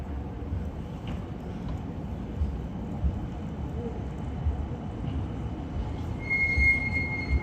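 A Birmingham tram passes with a low rolling rumble, and a high thin brake squeal rises near the end, moderately close with no talk over it.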